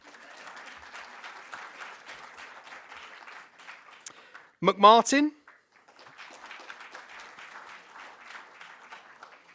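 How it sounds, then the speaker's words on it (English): Audience applause at the Mainframe Awards 2022 ceremony, a short burst of clapping that swells and fades between stretches of a presenter speaking into a microphone. "please feel free to clap"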